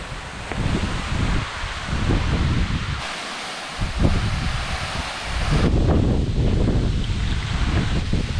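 Water at Fall Creek Falls State Park in Tennessee roars steadily as a broad, close rushing wash, with gusts of wind buffeting the microphone and no voices.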